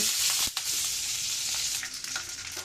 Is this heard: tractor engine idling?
no